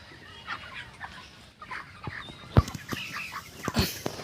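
Broiler poultry chickens in a farm shed cluck and call in scattered bursts, with a couple of louder nearby squawks over a low background hum, and no talking.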